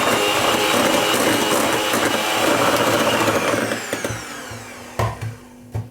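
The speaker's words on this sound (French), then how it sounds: "On va fouetter donc quelques secondes." Electric mixer whisking Nesquik genoise sponge cake batter with melted butter, a loud steady whirring buzz that cuts off after a few seconds, followed by a few short clunks.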